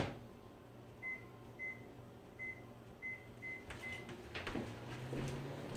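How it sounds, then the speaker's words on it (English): A microwave oven melting shredded cheese runs with a low steady hum, while a string of six short evenly spaced beeps sounds, then a few clattering knocks and handling noises close by. "now I'm going to put the shredded cheese in the microwave."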